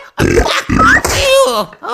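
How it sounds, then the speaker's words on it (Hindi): A cartoon character in a Hindi-dubbed animated episode lets out a loud, drawn-out burp right after drinking water, a long rumbling belch that wavers in pitch and fills nearly two seconds, up close and dominant. "कीड़ों की कसम, तुम डकार देने में तो माहिर हो।"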